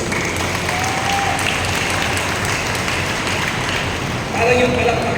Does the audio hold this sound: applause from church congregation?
yes